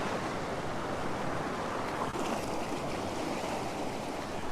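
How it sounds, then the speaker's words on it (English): Waves surge and break over rocks on the shore at Currumbin, Queensland, a steady broadband wash of surf with continuous roar and no voices. "I want the waves crashing over the rocks."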